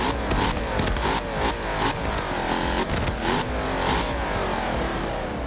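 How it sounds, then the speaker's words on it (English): A V8 car engine revs hard in a steady, loud roar with repeated sharp popping bursts like backfires through the exhaust, close up and without talk. "I mean it's going to backfire a lot."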